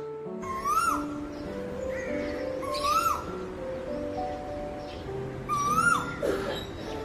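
An Asian koel calls from a tree, its rising whistled notes repeating three times at spaced intervals over a soft, steady tonal backdrop.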